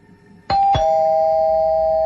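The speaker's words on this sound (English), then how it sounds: "The doorbell rang" A two-tone doorbell chime rings out clearly, the second note hanging on with a long ringing tail in an otherwise quiet room.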